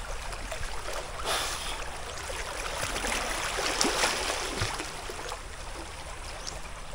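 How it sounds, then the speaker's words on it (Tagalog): A strong river current rushes steadily in a broad, noisy wash with occasional splashes, fairly faint and continuous, with no voices over it. "Malakas nga ang agos dyan."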